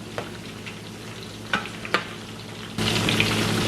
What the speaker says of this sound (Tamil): இப்போ இந்த மீனை வந்து கருக விடாமல் நல்லா கிறிஸ்பியாக பொரிச்செடுக்கணும்.